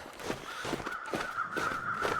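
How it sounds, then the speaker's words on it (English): A crow-like bird call in the survival video game The Long Dark, several harsh caws spaced through a brief stretch over a steady wind-like background, heard alone. "I think it's like a bird."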